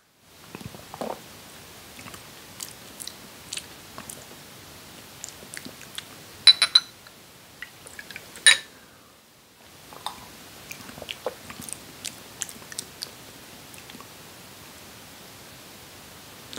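Soft biting and chewing of manuka honey collagen while it is being tasted. Small mouth clicks and crunches come close and quiet over a faint hiss, with one louder burst midway.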